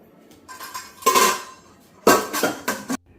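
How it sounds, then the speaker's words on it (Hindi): New pots, pans and utensils clatter and clink as they are washed in a home kitchen, in two loud bursts of metallic knocking separated by quieter handling. "ये सारे जो नए बर्तन हैं इनको सबसे पहले मैं धोऊंगी"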